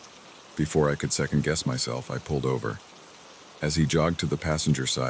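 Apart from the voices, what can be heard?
rain falling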